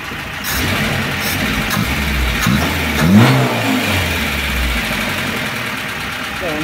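A hot 1.6-litre car engine with a camshaft knock and a flickering oil pressure warning light runs steadily up close, rising in one brief rev around the middle before settling back to its even idle.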